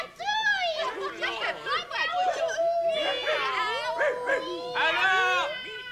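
A voice imitates a dog, yapping and yelping in quick high-pitched bursts, loud and close, mixed with lively chatter from children's television puppet characters.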